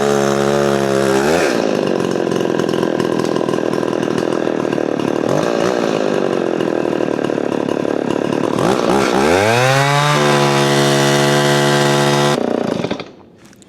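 A Stihl 024 Wood Boss chainsaw, warmed up after choke use, runs loud and close for about twelve seconds, its two-stroke engine revving up and down between idle and high throttle before being shut off abruptly near the end.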